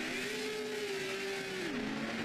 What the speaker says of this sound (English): Clutch into first, get some revs going.